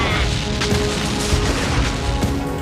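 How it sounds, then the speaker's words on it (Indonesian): Grongi monster Gyarido, creature number 24, bursts apart after a Dragon Rod strike in Kamen Rider Kuuga: a loud, dense, rumbling and crackling blast that roars on without pause, with a few sharper bangs inside it. "makhluk nomor 24 itu akhirnya meledak."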